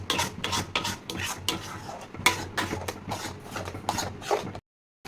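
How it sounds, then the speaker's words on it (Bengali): Condensed milk being stirred into a thick chana dal laddu mixture gives repeated scraping, rubbing spoon strokes against the pan, close and fairly quiet, ending abruptly in silence. "এর মধ্যে কনডেন্স মিল্ক দিয়ে ভালো করে মিশিয়ে নিচ্ছি"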